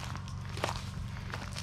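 Footsteps walk around the back of a vacant property near a tractor shed, a soft, steady series of steps close by with light outdoor background.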